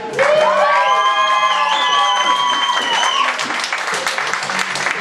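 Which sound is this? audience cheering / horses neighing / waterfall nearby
audience cheering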